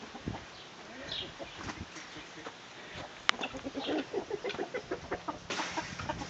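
Chickens cluck and murmur close by, with a sharp click partway through and some quiet background voices.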